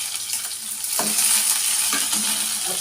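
Chopped onions and cumin seeds sizzle in hot oil in a pan for a home-style bottle gourd curry, with a steady close frying hiss and a couple of stirring scrapes.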